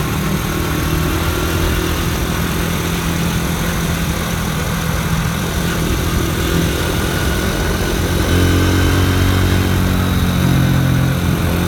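A modified Honda Dream motorcycle ridden on a road at night: a loud, steady engine drone blended with rushing wind, swelling slightly toward the end, with no voices.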